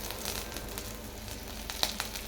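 Onions frying in a little oil in a home kitchen, a steady soft sizzle running throughout at low level, with a couple of brief clicks near the end and no talking.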